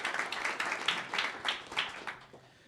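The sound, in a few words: audience applause for panelists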